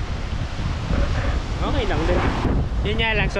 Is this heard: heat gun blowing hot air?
no